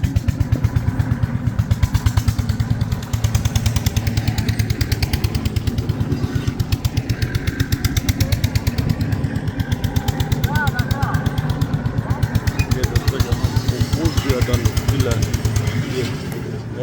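Water well boring machine digging for a tube well installation in Pakistan: a loud, steady, rapid mechanical pounding and engine chug that runs nonstop up close, with voices talking over it.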